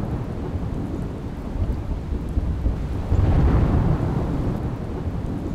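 Heavy rain pours steadily in Gujarat, a dense continuous roar with a low rumble of thunder swelling midway, no voices.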